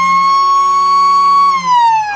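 A football ground siren sounds at a 2022 Central Midlands Coastal Football League Grand Final: one loud, sustained, steady tone that sags slightly in pitch as it winds down at the end.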